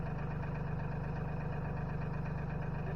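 A Mahindra tractor engine idles steadily at a low, even rumble with a constant vibrating drone, moderately faint and alone, no voices.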